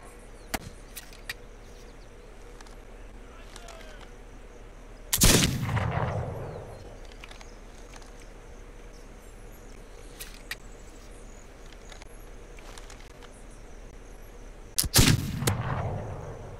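Two loud gunshots in a settler defense video game, each a sharp blast with a trailing echo, spaced about ten seconds apart over a steady quiet ambient bed with faint ticks.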